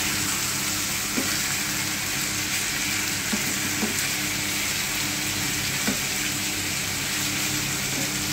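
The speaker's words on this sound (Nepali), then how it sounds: "यो मेरिनेट गरेको मटनलाई चाहिँ मजाले फ्राई प्यानमा फ्राई गर्ने हो मजाले।" Marinated local mutton fries in a frying pan with a steady, close sizzle, broken now and then by small pops and clicks.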